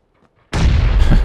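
A grenade in PUBG goes off after a short near-silent pause as a sudden, loud, close explosion, followed by a sustained roaring blast and debris rumble.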